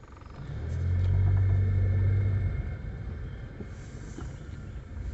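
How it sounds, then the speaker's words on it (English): A car rolls slowly through a campground in Kingdom Come State Park, its low engine rumble swelling near the start and then settling into a steady, fainter drone with road noise. "let's go ahead and drive through the campground"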